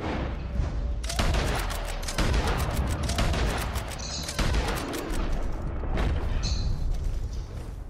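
Dense gunfire in a video game, rapid bursts of shots and booms crackling almost without pause, loud and close throughout.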